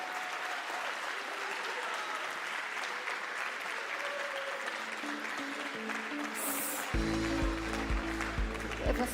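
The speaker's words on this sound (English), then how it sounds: "all the teams deserve a last round of applause" A conference audience applauds steadily, a broad wash of clapping that carries on, joined near the end by loud music.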